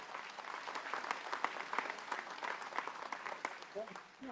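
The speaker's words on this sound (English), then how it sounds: "Give her another round of applause." A crowd at the Missouri Cattlemen's Steak Fry gives a round of applause, a fairly faint, crackling spatter of many claps lasting several seconds and tapering off, with voices mixed in.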